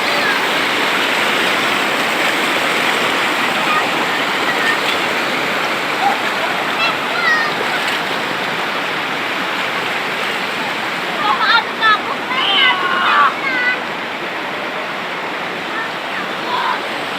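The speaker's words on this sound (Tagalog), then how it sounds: "Kung makikita nyo, ang grabe ang agos ng tubig." Strong river current rushing loudly and steadily, a dense broadband roar of churning water close by, with brief splashes and faint voices breaking through near the end.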